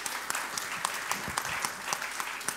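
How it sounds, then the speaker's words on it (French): An audience at a French automotive trade club session claps steadily for a couple of seconds, a dense round of applause with individual claps popping out, fairly close and moderately loud. "Je veux qu'on applaudisse et qu'on remercie l'ensemble des intervenants."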